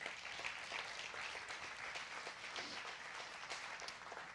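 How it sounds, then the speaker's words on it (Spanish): A church congregation applauds together, a dense steady patter of many hands at moderate distance, sustained evenly for the whole stretch without speech. "Denle un fuerte aplauso al Señor."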